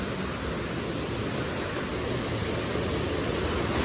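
A waterfall near Cherrapunji close to a river flowing down from the hills, heard as a loud, dense, unbroken rush of falling water with no voices.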